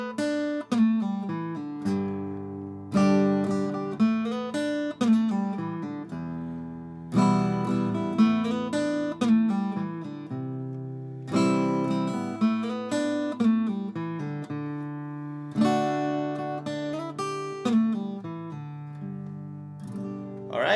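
An acoustic guitar plays open chords, each followed by a short melodic lick, in a steady repeating cycle of strums and picked runs, clear and close, with no voice.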